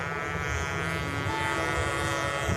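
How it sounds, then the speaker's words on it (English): A small glow-type engine on a control-line model plane during an endurance flight, a steady buzzing whine with layered harmonics, constant in level and unbroken for the whole stretch. "The engine spins down"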